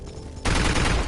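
A sudden loud burst of rapid gunfire in the VR video game Doom 3 erupts after a short quieter lead-in and rattles on to the end.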